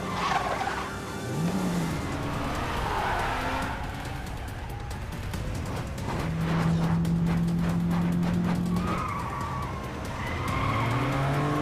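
A car skids and squeals during a frantic drive, tires screeching in long sweeping bursts with a roaring engine over about twelve seconds, loud and close, with a sustained squeal near the middle and no talking.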